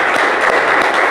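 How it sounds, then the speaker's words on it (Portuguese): A church service congregation claps steadily and loudly, dense applause filling the whole moment without a pause. "Para o Senhor Jesus, mais uma linda salva de palmas"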